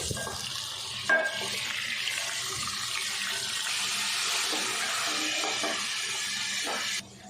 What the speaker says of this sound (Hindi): अब इसमें डाल देंगे आधा किलो चिकन और चिकन को अच्छे से फ्राई कर लेंगे।